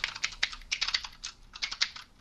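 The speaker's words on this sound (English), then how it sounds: "I'm on my keyboard right now" Typing on a computer keyboard: a close, busy run of uneven key clicks and taps at a quick pace with no speech over it.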